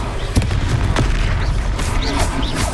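Confringo explosion spells in Hogwarts Legacy go off as loud, rumbling booms and crackling blasts, one after another in dense combat noise, with a voice calling out over the din.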